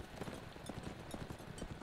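Galloping hoofbeats from a horse in Mount & Blade: Warband, a quick repeated clopping pattern under a busy background din, fairly even in loudness.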